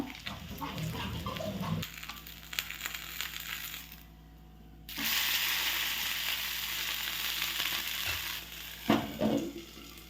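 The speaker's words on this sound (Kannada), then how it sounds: "ಮೀಡಿಯಂ ಫ್ಲೇಮಲ್ಲಿ ಇಟ್ಟು ರೊಟ್ಟಿಯನ್ನು ಕಾಯಿಸ್ಕೊಳ್ಬೇಕು" Thalipattu roti fries in ghee on a pan over a medium flame. Crackling sizzle comes in bursts, drops out briefly, then returns as a steady hiss with occasional clinks.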